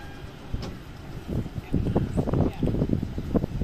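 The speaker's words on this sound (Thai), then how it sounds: "ขบวนรถท้องถิ่นที่ 446 นะครับ ต้นทางสถานีชุมทาง หาดใหญ่ ไปทางสถานีชุมพรนะครับ ซึ่งก็ที่นี่เป็นสถานีปลายทางนะครับ กำลังจะเข้าเทียบในชานชาลาที่ 3 นะครับ" Local train number 446 from Hat Yai Junction pulling into platform 3 at its terminus station, a steady rumble with rhythmic clattering wheel thumps that grow louder as it arrives.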